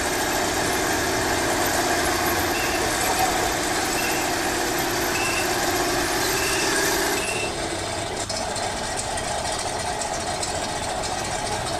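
Model tank engine idling, a steady buzzing electronic drone with a faint rattling hum that continues unbroken, close and fairly loud, then drops slightly in pitch and level partway through, no voices.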